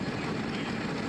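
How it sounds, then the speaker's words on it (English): Racing kart engines at the Shenington circuit, close by, make a continuous broad engine roar with a steady low rumble. "If you can hear the engines in the background, that's literally because they're like right next door to me"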